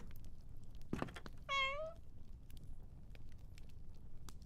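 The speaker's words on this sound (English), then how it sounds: "A pet kitty." A pet cat in a magical-academy video game gives one clear, rising meow lasting about half a second, close and distinct, preceded by a soft thump against quiet background ambience.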